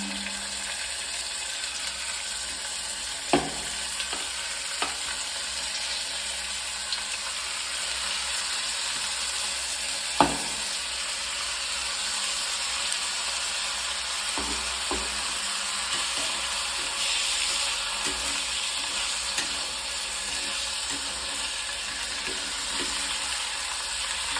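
Washed rice fries in a pan for ghee rice, giving a continuous close sizzling hiss broken by a few sharp clinks of a spoon against the pan.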